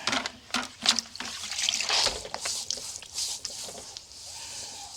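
Hot water poured from a bucket, trickling and splashing over a painted blue stripe, irregular wet spatters and dribbles at close range, with quieter trickling toward the end.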